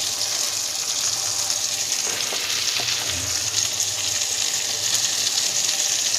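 Chopped onion frying in a pan of oil for ginger-garlic chow mein, a loud, continuous close sizzle with a brief stirring scrape partway through.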